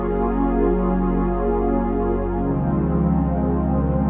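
A sustained chord is played as an inversion with some notes dropped an octave lower, ringing steadily and shifting to a deeper voicing about halfway through, with no one talking.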